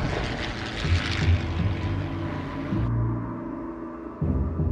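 World War II American propeller bombers roar overhead in a dive into attack near Midway in 1942, a loud continuous engine drone with wavering pitch, shifting and swelling as aircraft pass.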